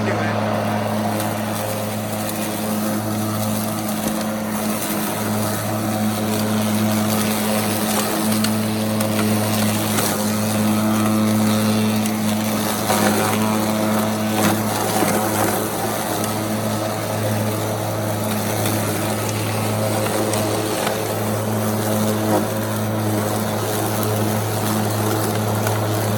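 A Stihl cordless electric lawn mower cuts through very tall grass, giving a loud, steady motor drone with a constant hum that runs without a break from start to finish.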